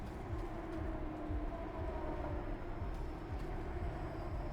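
Train in the video game Kiborg, a steady low rumbling roll with faint rhythmic clatter, continuous and moderately quiet with no talk over it.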